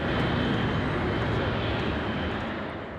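Jet airliners taking off at Haneda Airport in Tokyo, heard from nearby as a loud, steady broadband roar that holds for several seconds and eases slightly at the end, with no talk over it.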